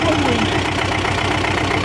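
A tractor engine runs steadily and loudly at close range throughout, a continuous low rumbling drone with a faint voice briefly at the start, while stuck off-road during a mushroom-hunting outing.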